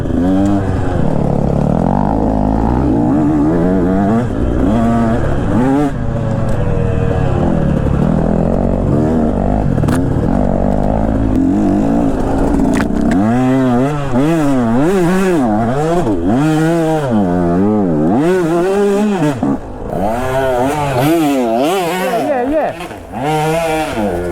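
A 150cc enduro dirt bike engine revs hard up a sandy, slippery trail climb, loud and close with rising and falling throttle bursts, while riders talk over it.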